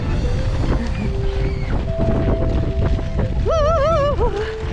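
Steady wind roars across an open microphone by the sea on the Irish coast, a constant rushing blur with faint tonal whistles drifting through it.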